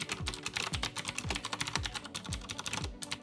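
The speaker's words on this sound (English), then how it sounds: "I really like the resistance, feedback, and like obnoxious typing sounds that it makes." Rapid, clacky typing up close on a Logitech G610 full-size mechanical keyboard, a steady stream of crisp key presses with occasional heavier thocks from bigger keys.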